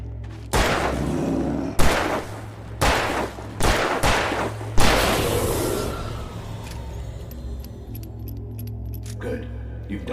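In the video game Alan Wake Remastered, a series of loud, sharp gunshots ring out at uneven intervals, each followed by a fading echo and then a quieter stretch with faint clinks.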